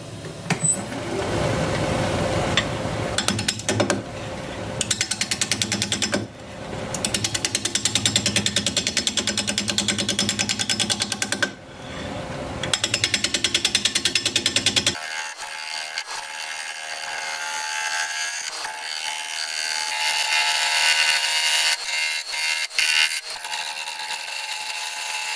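A 5/8 inch bowl gouge cuts a black walnut bowl spinning at about 600 RPM on a wood lathe. The cut is loud and continuous, with brief breaks between passes, and a steadier hiss follows as the cutting goes on.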